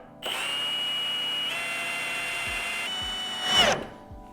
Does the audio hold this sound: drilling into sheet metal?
yes